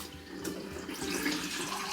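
Tap water runs steadily into a cup in a home kitchen, a soft continuous splashing stream, close and fairly quiet, with no voices over it.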